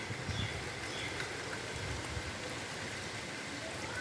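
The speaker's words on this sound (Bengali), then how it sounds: "কি বৃষ্টি হচ্ছে দেখুন" Rain falling steadily as a soft, even hiss with a low rumble beneath, continuous and moderately distant, with no voices.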